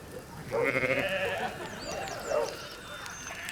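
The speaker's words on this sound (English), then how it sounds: "There's sheep. She knows sheep." A sheep bleats twice with a wavering, quavering cry over a soft background murmur, fairly close, with chirpy bird-like calls faintly behind, in the video game Pillars of the Earth.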